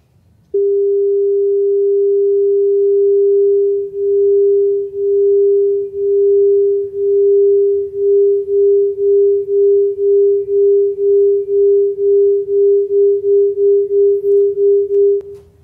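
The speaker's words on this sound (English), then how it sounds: "So that's 400 and 405 hertz played together." Two pure sine tones at 400 and 405 hertz sound together as one steady, loud hum that swells and dips in a slow beating pulse, lasting about fifteen seconds with no talking.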